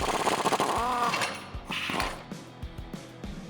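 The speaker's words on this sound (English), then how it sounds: "So we're gonna take the bolt out of the track bar where it meets the axle." A ratchet with a 21mm socket loosening the track bar bolt at the axle of a 2018 Jeep Wrangler JL, close rapid clicking and metallic creaks in short bursts, with no talking.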